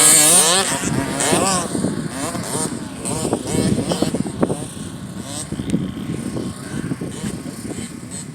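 A small Cobra Mini motocross bike ridden by a four-year-old races near a five-year-old's bike, engines buzzing and revving in rising, falling bursts close by, with a few voices talking over the noise.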